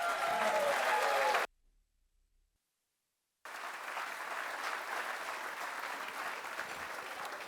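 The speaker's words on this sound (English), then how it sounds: "Now give them a round of applause." Gala audience at A Taste of Nature breaks into broad, sustained applause from a large crowd; the sound drops out briefly to silence, then the clapping resumes at a fuller, even level.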